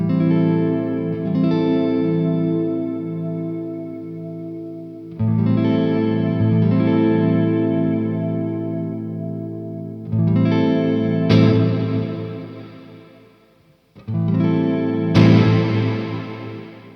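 An electric guitar played through a reverb pedal rings out in sustained chords, about five strums spaced a few seconds apart. Each strum swells and fades into a long, washy tail, loud and alone.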